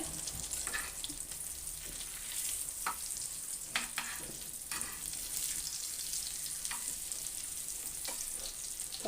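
Surmai fish pieces coated in semolina fry in hot oil, giving a steady crackling sizzle with scattered sharp pops and occasional stirring clinks throughout.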